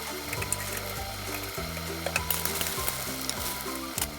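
Browned potatoes still frying in oil for a mutton curry, a continuous sizzle with small crackling pops under rhythmic background music.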